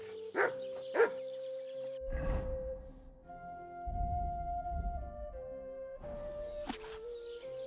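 A dog in Kingdom Come: Deliverance II yips and whimpers a few times over soft game music, short sharp sounds early and again near the end with quiet rustling between.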